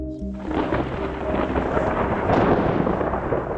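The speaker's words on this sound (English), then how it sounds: "Got a hailstorm going." A hailstorm on a high Rocky Mountain trail in Colorado brings a deep roll of thunder over a dense, loud patter of rain and hail that continues steadily.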